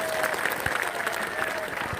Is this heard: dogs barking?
no